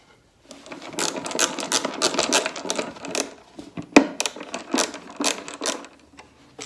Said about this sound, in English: use the Forstner bit to make a small indentation for our little tabletop connector